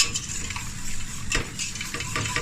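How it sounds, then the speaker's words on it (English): A whisk working through a cheese sauce in a pan as the cheese melts, soft rapid scraping and light clinks over a steady bubbling hiss, close and without talk. "This needs whisking now to melt the cheese."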